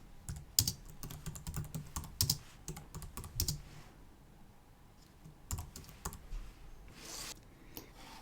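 Fingers tapping on a computer keyboard while entering text in a desktop publishing program, irregular quiet clicks in short clusters with pauses between them.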